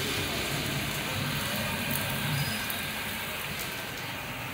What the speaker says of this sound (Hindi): आ गई है बारिश फिर से